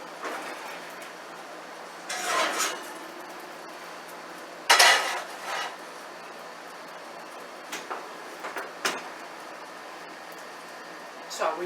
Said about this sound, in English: Now let's see if I can pull my cast iron pan out without getting burned.